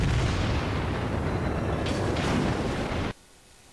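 Heavy booming gunfire from a tier 6 Japanese battleship, the Fuso, in the naval combat game World of Warships, loud and dense for about three seconds before cutting to near silence.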